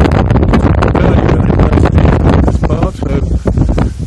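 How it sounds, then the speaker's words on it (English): Strong wind buffeting a small sailboat running under jib on the Seine, loud rumbling gusts hitting the microphone close up, with water and rigging rustle under a voice. "Now I've got the wind behind my aft starboard quarter"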